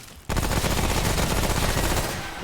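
Sustained automatic gunfire in the shooter game Remnant: From the Ashes during a world boss fight against The Ent, a loud dense burst of rapid shots starting abruptly after a quiet moment and running continuously.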